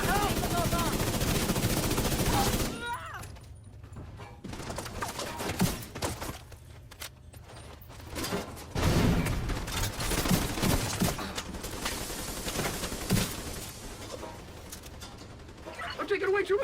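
Heavy gunfire in a shooter game, a loud burst of rapid automatic fire up front, then scattered shots and distant rattling under a voice.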